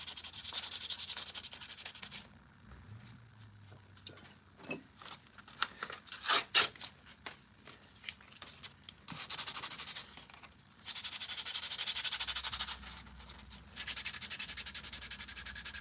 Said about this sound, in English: just final sanding on some of these pieces just to kind of get it ready to go